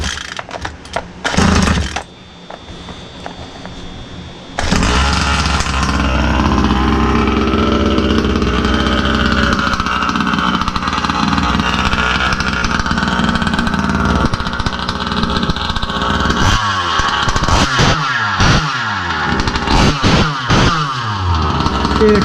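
A Rovan 36cc big-bore gas engine, with its clutch working, idles with a buzzy mid-pitched drone after a few short bursts, then rises into a steady loud run and finishes with several sharp revs up and down, alone and close.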